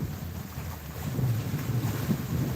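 Steady wind rushes over a sailboat under sail alone at night, about 11 knots of breeze, with a low rumbling layer of water and wind buffeting the microphone, no voices.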